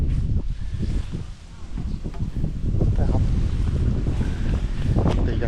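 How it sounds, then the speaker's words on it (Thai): Strong wind gusts buffet the microphone while fishing outdoors in a forest, a steady low roaring rush that swells and dips, growing heavier in the second half, with no clear voices. "ลมแรงตียากหน่อยนะครับ"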